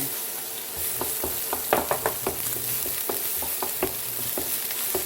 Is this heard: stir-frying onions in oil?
yes